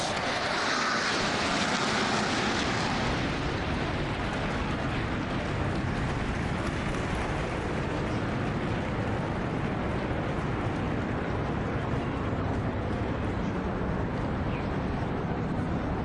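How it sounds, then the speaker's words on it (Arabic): Mirage 2000-9 fighter jets fly over in formation during a UAE National Day celebration, making a loud, broad roar that swells early and then holds as a steady, sustained rush overhead. "طائرات الميراج 2000-9 في تشكيل رائع في سماء بلادي في هذا اليوم الوطني المجيد"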